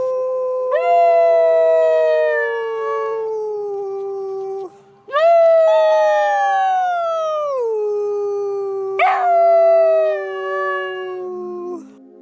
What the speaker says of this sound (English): I want you to hear Chaco singing with us